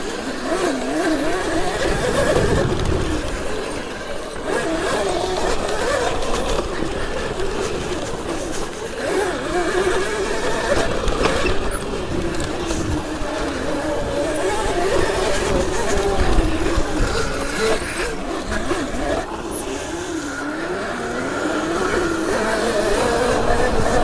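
A Sur Ron electric mini dirt bike ridden through a public park gives a continuous whining motor and rolling drone that rises and falls, while a rider talks over it.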